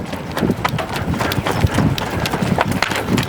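Hooves of a colt loping on its first ride under a rider land in a quick, repeating rhythm on dirt, close and loud throughout with no voices present.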